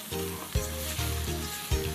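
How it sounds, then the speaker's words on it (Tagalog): Washed rice and glutinous rice sautéed with ginger, garlic and onion in hot oil for beef-shank rice porridge, a loud continuous sizzle broken by a few dull thumps of a spoon stirring through the pan. "yung ating bigas na hugasan ko na to kanina, so sasama natin siya sa paggisa"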